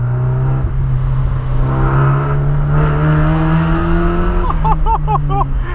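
A Mazda MX-5 running without an exhaust, its engine droning steadily while driving and then revving up sharply near the end, loud and close.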